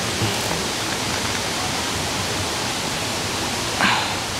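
Constant broad rushing roar of water at the top of Khun Phong waterfall in the Phu Kradueng forest, heard up close and steady throughout with a brief faint knock near the end.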